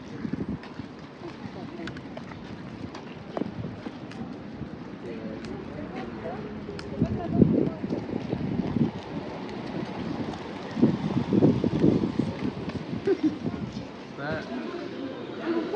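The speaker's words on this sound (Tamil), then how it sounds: "வெதர் வந்து சரியில்லை குளிர் காற்று ஒரே" Cold wind gusts steadily across the microphone outdoors on a summer holiday trip, a rough rumbling buffet that swells and eases while people talk throughout.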